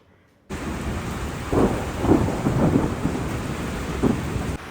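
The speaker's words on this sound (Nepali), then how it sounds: "पानी पर्न लागिसकेको छ" Night rain begins in Kathmandu, pouring steadily after a sudden onset, with several low thunder rumbles rolling through at moderate distance.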